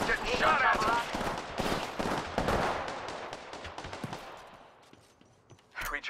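Rapid gunfire bursts crackle through an Apex Legends ranked match, loud and dense at first with overlapping shots, then thinning into scattered pops before a final sharp burst; a voice talks over the action.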